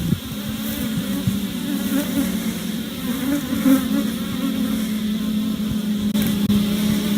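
Honeybees in an open hive being inspected, their buzzing a dense, steady drone close up that swells slightly as the colony grows agitated, with no voices.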